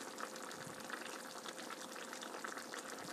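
Tofu stew simmering uncovered in a pot, quiet, steady bubbling with small irregular pops, faint and close, with no talk.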